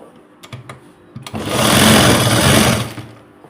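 A sewing machine stitches a blouse: a few faint ticks, then a close, fast mechanical whirr that runs for about a second and a half before stopping.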